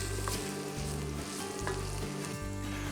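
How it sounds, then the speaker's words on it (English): Paprika chicken sizzles in a pan, frying loudly and steadily while the spoon scrapes and stirs it at a few separate moments, close up with no talking. "Let's give it a good stir"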